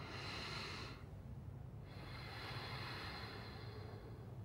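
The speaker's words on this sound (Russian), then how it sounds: "Глубокий вдох." A patient takes a deep breath during a medical examination, a close, long airy inhalation that pauses briefly before a second rush of breath continues, with no talk.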